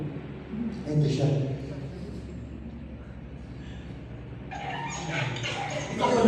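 A dog gives a few yips and whimpering cries, with louder bursts near the start and the end, under a speaker's steady talk.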